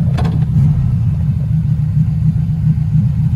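Turbocharged Volkswagen Beetle engine with a blow-off valve, a steady loud low rumble idling close by, with no talk and no distinct valve flutter standing out.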